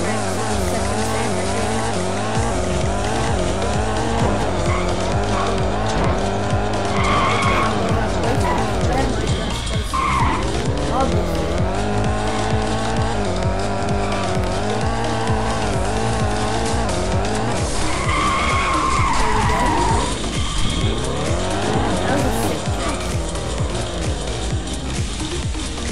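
Cars skid and squeal their tires in the Dreamcraft Car Driving Simulator game on an iPad, with loud, continuous racing engines rising and falling throughout under steady talk.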